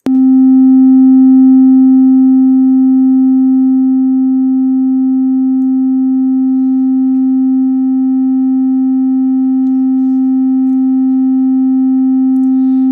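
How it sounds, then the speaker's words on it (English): A steady, pure synthesizer sine tone holds unbroken at one pitch throughout, loud and clean with a faint higher overtone. "I'll put a sine wave over here."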